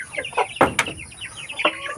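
Native chickens on a farm cluck softly in short scattered bursts, with one or two sharper squawks near the middle, fairly close against a quiet background hum.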